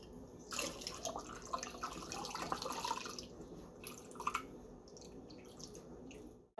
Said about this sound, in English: I'm going to put it into this jar here and get a funnel.